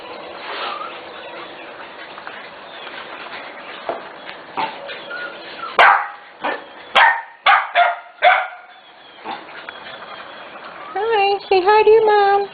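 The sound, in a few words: corgi puppies barking and yipping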